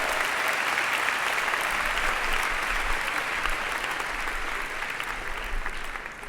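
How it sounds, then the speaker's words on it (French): Audience at a church testimony gathering applauding warmly, a dense and steady wash of clapping that holds at an even level for several seconds and fades slightly at the end. "On peut les applaudir bien fort, ils sont venus jusque chez nous."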